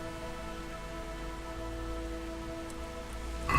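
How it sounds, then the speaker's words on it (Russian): Steady rain hisses evenly in the video game Kingdom Come: Deliverance, a soft continuous wash with no voices, ending in a brief louder patch. "Вот это дождь."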